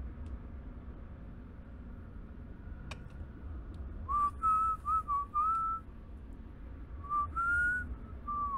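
Whistling in the Metroid Dread video game: short sliding whistled phrases come in two bursts, each lasting a second or two, over a steady game soundtrack, with no talking.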